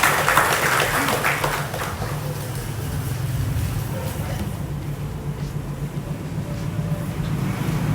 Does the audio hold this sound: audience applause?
yes